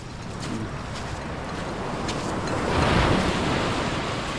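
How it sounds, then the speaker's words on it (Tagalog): Sea waves surge and wash in a steady roar, building to a louder swell midway, with wind buffeting the microphone. "Parang palaki yung dagat ngayon ah."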